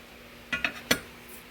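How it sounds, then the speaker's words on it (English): A steel plate set down on a Club Car golf cart frame, giving three quick metallic clanks close by, the last the sharpest, followed by quiet. "I'm going to set one of these steel plates that I have over here on top of this"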